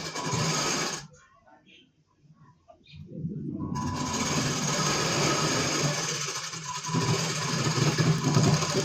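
Stitching along the side seam of a four-tuck blouse, a sewing machine whirs in a steady close run, stops for a few seconds, then resumes for a longer stretch.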